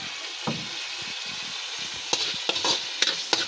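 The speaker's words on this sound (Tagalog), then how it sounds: "ginigisa muna yung mga spices, bawang, sibuyas" Spices, garlic and onion sauté in a pan with a soft continuous sizzle, punctuated by scraping stirs that grow busier toward the end.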